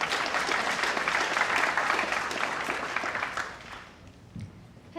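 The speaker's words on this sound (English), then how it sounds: "Let's give a big round of applause for Monica and Pradeep." Conference audience applauding, a dense wash of many hands clapping for about four seconds before fading out, heard from within the hall at moderate volume.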